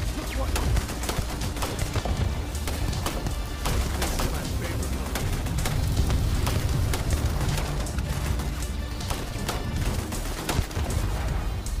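Dense, continuous gunfire in Starfield as machine gun turrets are shot down, sharp shots and bursts packed over a loud game soundtrack of explosions and action throughout.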